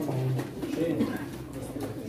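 Pigeons coo at a pigeon auction in Çorum, low throaty calls repeating steadily and close by, with crowd murmur underneath.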